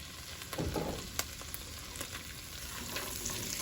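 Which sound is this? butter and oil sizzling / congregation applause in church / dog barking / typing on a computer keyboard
butter and oil sizzling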